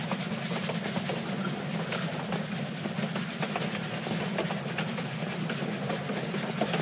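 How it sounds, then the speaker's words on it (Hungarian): Steady train ride in Tomb Raider 4: The Last Revelation on the way to Alexandria, a continuous low rumbling drone with faint rhythmic clicks of the rails, constant and unbroken throughout. "Most vonaton megyünk Alexandriába."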